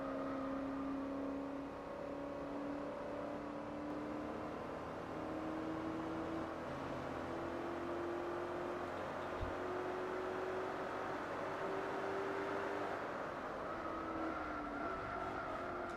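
Turbocharged car engine in Gran Turismo 4, a steady droning whir that holds pitch in long stretches and steps up as gears change, continuous and moderately close with no talking.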